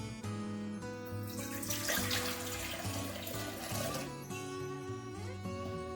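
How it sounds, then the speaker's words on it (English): Warm water pours into a bowl steadily for several seconds with a bright splashing rush over a soft background hum, then eases toward the end. "then add a cup and a half of warm water"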